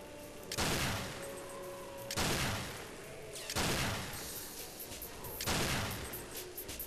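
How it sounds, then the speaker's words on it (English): Gunfire in the James Bond 007: Nightfire video game comes in four rapid bursts spaced evenly over several seconds, fairly quiet overall. "What are you firing at, dude?"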